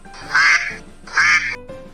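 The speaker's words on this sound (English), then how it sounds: "Duck." A domestic duck gives two loud, nasal quacks about a second apart, close and clear with nothing else behind them.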